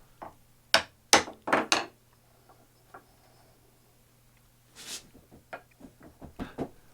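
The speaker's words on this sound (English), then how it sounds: "So I just slide it in place and give it a couple of taps" A vise end cap is tapped into place with a hammer on a workbench: a handful of sharp, close metallic knocks in an uneven cluster, then a scattering of lighter taps and clatter over a quiet hum.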